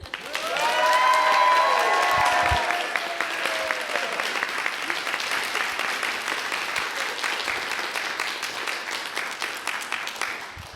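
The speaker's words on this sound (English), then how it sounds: "let's just cheer" A live audience at a podcast recording claps and cheers, with a burst of whoops and shouts near the start over dense, steady applause that gradually thins out toward the end.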